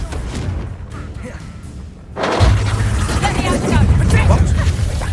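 Bombarda blasting spell cast in Hogwarts Legacy, a loud booming explosion that bursts in about two seconds in, followed by rumbling debris and further heavy thuds amid game combat noise, with voices shouting over it.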